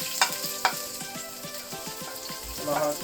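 Garlic and onion sizzle and crackle in a frying pan, a steady close hiss with repeated light clinks and scrapes of a utensil stirring.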